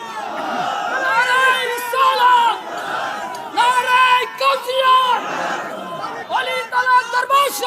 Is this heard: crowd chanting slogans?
yes